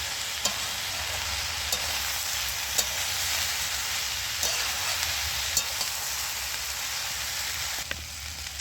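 Red amaranth stalks with ginger and black pepper powder sautéing in a pan, a dense continuous sizzle with occasional light taps of a spoon, steady and close.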